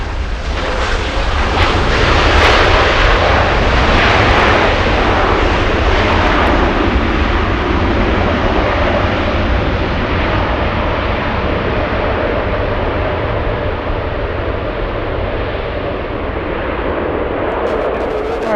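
A Delta heavy jet airliner takes off at LAX, its engines producing a loud, sustained broadband roar that holds steady for the whole stretch, with no voices over it.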